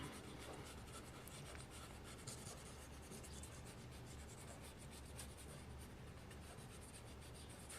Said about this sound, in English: Let's go ahead and erase some of those initial guidelines.